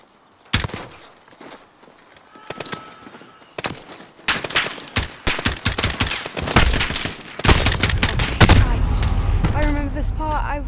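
Several guns firing on foot in Call of Duty Modern Warfare: sharp, irregular shots that build into rapid overlapping volleys and a heavy rumble, loud and close, with someone speaking over it.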